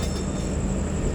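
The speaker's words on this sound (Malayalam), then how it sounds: "അത് കൊങ്കൺ റെയിൽവേയുടെ ഫുഡ് ക്വീൻ എന്നറിയപ്പെടുന്ന മാണ്ഡവി എക്സ്പ്രസ് ആണ് വരുന്നത്" Mandovi Express on the Mumbai CSMT–Madgaon route, known as the Konkan Railway's food queen, rolling in with a steady, loud low rumble of wheels and carriages close by, with no voices.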